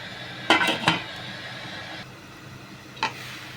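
A metal lid set onto a cooking pot of chicken tinola, a couple of sharp close clinks and rattles followed by a quieter single clink over a low simmering background, no talking.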